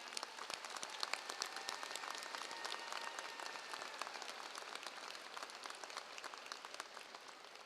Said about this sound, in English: Would you give them a big round of applause tonight?